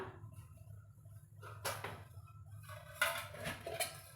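A kadai is set on a stove to cook beetroot poriyal, giving a few close metallic clanks and knocks spaced over a quiet kitchen background.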